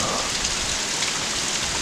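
Steady, dense rain patters onto garden plants and leaves, a constant close hiss with no pauses and no voices.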